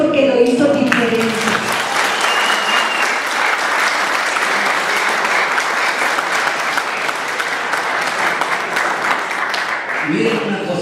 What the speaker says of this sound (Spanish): Denle un aplauso a Dios porque lo hizo diferente.